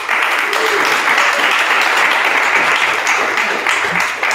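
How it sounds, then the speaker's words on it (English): Audience applause fills a room at an Ethereum developers meetup in San Francisco, a steady, dense clapping that holds loud and even throughout without a break. "please give him a round of applause"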